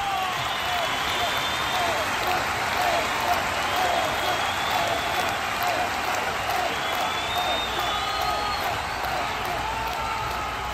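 Crowd at a harbor cheering and applauding as a flotilla arrives, a dense, continuous wash of clapping with raised voices and whoops blended throughout at a steady level.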